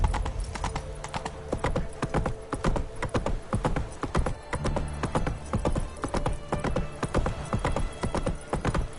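Horse hooves galloping in The Witcher 3, a rapid steady clip-clop rhythm close and loud, with a brief whinny and no talk over it.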